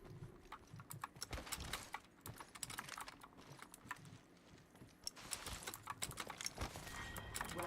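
Computer keyboard typing during play of Apex Legends: close, fast, irregular clacking keystrokes in uneven bursts, with no voices.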